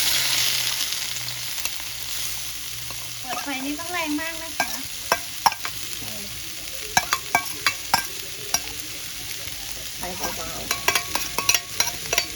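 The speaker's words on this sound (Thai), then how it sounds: "เราจะได้คั่วสมุนไพรของเราให้หอม" Herbs stir-fry with shrimp paste and shrimp in a pan, a close steady sizzle broken by frequent rhythmic scraping and clanking of a spatula against the pan, without speech.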